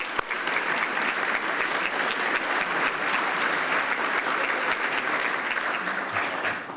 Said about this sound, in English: So let's give all of them a big round of applause.